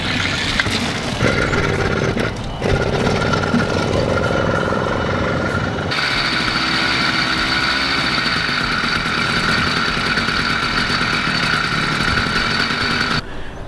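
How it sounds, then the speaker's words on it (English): A trusty 80cc motorbike engine runs steadily and loudly throughout, with a buzzing, even drone that settles into a smoother tone partway through, close to the listener. "I'm going to take my trusty 80cc motorbike to my local hardware store"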